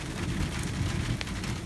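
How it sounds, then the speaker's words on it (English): Rain falling outdoors during an elk archery hunt in Colorado, a steady broadband wash with a low rumbling undertone of thunder and one brief sharper crack near the end, fairly close and continuous with no talking. "It's raining, it's thundering"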